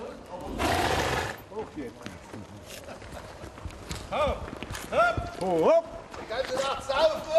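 Horse hooves clop and shuffle amid a busy outdoor scene at a hunt in Germany, with people talking and calling nearby, and a loud burst of noise early on.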